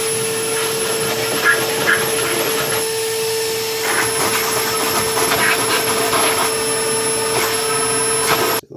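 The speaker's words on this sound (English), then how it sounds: "I'm going to use the vacuum cleaner to try and get as much out as possible." A vacuum cleaner runs steadily at close range with a constant whining drone, clearing debris from a Subaru Outback intake manifold during head gasket work; the pitch shifts slightly as the nozzle moves, then cuts off at the end.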